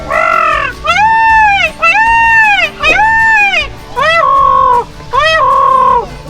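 A human voice imitates a peacock's loud, wailing call, repeated five times in drawn-out, nasal cries with brief pauses between them.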